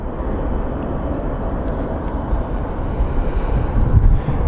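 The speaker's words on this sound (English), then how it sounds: "plane taking off" Airliner taking off at Sky Harbor airport, a steady broadband roar with wind buffeting, holding even and loud and swelling slightly toward the end.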